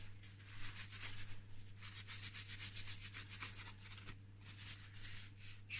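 A motorbike gear shaft from a Yamaha DTR engine rebuild is rubbed smooth by hand, giving a close, continuous scratchy rasping with quick back-and-forth strokes and a steady low hum underneath.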